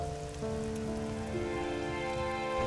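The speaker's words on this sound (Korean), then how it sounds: "잠시 오다 그칠 소나기가 아닌 것 같습니다" A heavy rain shower in Mongolia hisses steadily and densely, close by and with no let-up, and no voices are heard.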